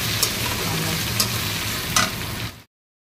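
Pointed gourd frying with shrimp in a pan, sizzling steadily up close with a few sharp stirring clicks before the sound cuts off abruptly into silence.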